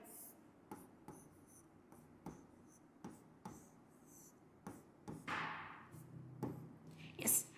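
A marker draws an orbital box diagram for carbon's electron configuration on a classroom board. Repeated short scratchy strokes and taps sound close and moderately loud, with a longer squeaky stroke near the end and no voices.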